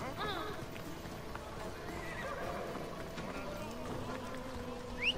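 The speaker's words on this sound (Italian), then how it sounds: "Siamo scesi dal cavallo," In Assassin's Creed Odyssey, a horse neighs and its hooves clip-clop across a game soundscape with a steady low backdrop. Someone speaks throughout, and a short louder cry rises near the end.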